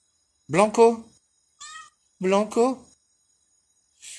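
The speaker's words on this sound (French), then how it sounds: "Oh mon petit Blanco, c'est un chat tout blanc, il ressemble ainsi à moi." A white Persian-mix cat meows several times: two loud, drawn-out meows, a shorter higher call between them, and a brief high cry at the end, close and clear with no talking.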